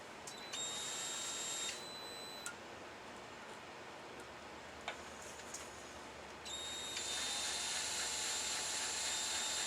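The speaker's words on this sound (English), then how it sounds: "I got a 1/16 inch bit that fits in my DeWalt drill" A DeWalt drill fitted with a 1/16 inch bit drills into steel, its motor whining in steady high-pitched bursts that start and stop, with clicks and small mechanical knocks between runs, close and fairly quiet.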